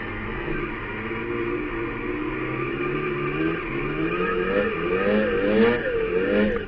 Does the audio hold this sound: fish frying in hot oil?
no